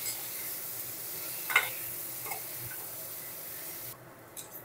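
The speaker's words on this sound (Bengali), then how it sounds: "এই তেলের মধ্যেই এঁচোড়গুলো ভেজে নেব।" Young jackfruit pieces frying in hot oil in a karahi while making echor kalia, giving a soft continuous sizzle with a couple of brief utensil clinks. Close and fairly quiet, and no one speaks.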